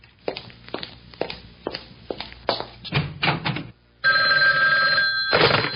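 A telephone rings near the end after a series of sharp knocks and taps, the ring loud and brassy.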